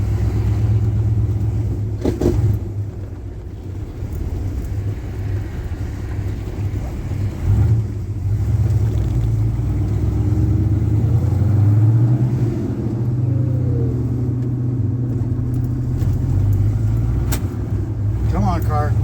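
A 1970 Plymouth Duster on a country road after sitting unused for two and a half years, its engine rumbling low and steady with wind noise throughout and a voice talking over it at times.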